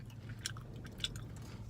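Crunchy chewing of a funnel cake sundae, close to the mic, with a few sharp bites standing out over a low steady background hum.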